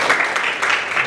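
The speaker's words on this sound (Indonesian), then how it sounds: "tepuk tangan untuk kita semuanya" Brief burst of close clapping from a group in a classroom, dense and steady for about a second, with no voices heard.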